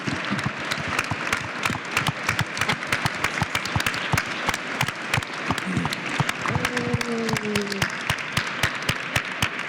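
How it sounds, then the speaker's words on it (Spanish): A live audience at an award event gives Martín loud, sustained applause: dense, rapid clapping throughout with a brief cheer partway. "os voy a pedir un fuerte aplauso para Martín"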